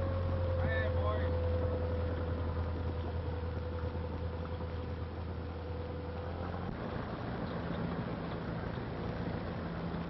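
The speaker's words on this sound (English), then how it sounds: "Hey, you fellas see a motorboat? Could be a motorboat." A motorboat engine drones steadily at a distance, its hum shifting partway through, with a faint voice briefly audible early on.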